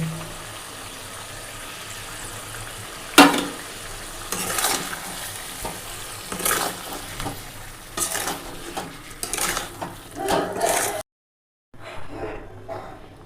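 Chicken curry with cashew paste fries in a pan over a low flame, sizzling under repeated scraping stirs that come in loud bursts, then it cuts briefly to silence before faint sizzling resumes.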